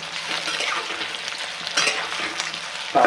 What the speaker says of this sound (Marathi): चला, तर मग सर्वात पहिल्यांदा आपण बटाटा परतून घेऊयात व्यवस्थित.